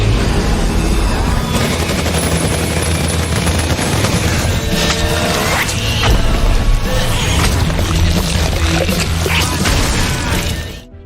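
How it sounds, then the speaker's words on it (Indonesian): Rapid bursts of sniper gunfire from a hillside crack through a loud, busy action film soundtrack, with booms and mechanical clatter layered over rumbling music. "mereka diserang dari arah bukit oleh tembakan bertubi-tubi dari seorang sniper misterius"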